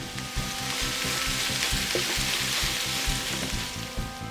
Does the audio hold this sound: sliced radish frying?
yes